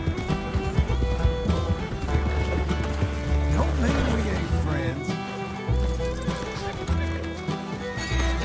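Thoroughbred mare in the Red Dead Western video game, with hooves clip-clopping and loud neighs and whinnies over a busy game soundscape with music.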